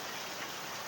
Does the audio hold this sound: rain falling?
yes